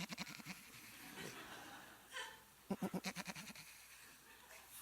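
Voice imitating a goat bleating, a quick series of pulsed, wavering bleats after earlier spoken syllables, fairly faint in a room.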